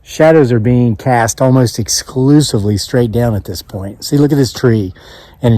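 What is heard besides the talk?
No everyday noise stands out behind the speech.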